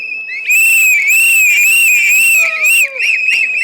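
Shrill crowd whistling at a Tamil political rally: sustained high-pitched whistles from many people at once, loud and close, rising and bending in pitch over a steady din of cheering.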